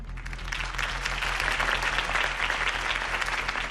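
A crowd in the Batman Telltale Series video game applauds steadily after a campaign speech for Harvey Dent, a dense, even wash of clapping with no voices over it.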